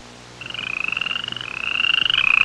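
Frogs croak in water with a rapid, pulsing rhythm that swells steadily louder, close and unaccompanied.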